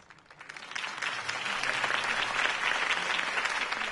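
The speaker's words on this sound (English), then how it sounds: "could have heard that applause" Crowd applause in the video game Batman on PS4 Pro swells after a quiet start and holds steady, a dense wash of clapping from many hands.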